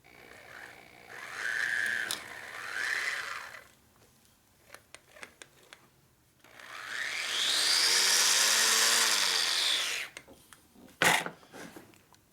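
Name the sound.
drill boring into a hole during motorcycle engine rebuild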